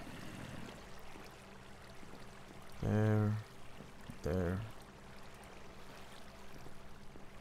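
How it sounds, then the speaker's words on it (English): A water bucket poured in the Minecraft video game gives two short splashing gushes a second apart, fairly loud over a low ambient bed, and a voice speaks briefly. "I keep forgetting to grab more buckets of water as I go down."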